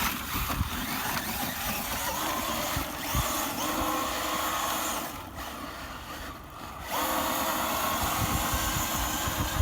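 A Traxxas TRX-4 RC truck fitted with a Hobbywing 2300kv Axe motor drives along with a steady electric whine and rumble, briefly dipping before surging back up, with a damaged control arm.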